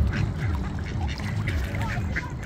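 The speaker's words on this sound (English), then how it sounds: "But they're still machine gun quacking." A group of ducks quacks rapidly in fast, overlapping bursts, close and loud, with a low background rumble and a person talking among them.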